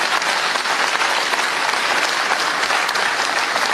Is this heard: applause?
yes